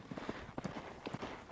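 Hooves of a roping horse clip-clopping in the roping box, several quick, fairly faint irregular hoof thuds close by.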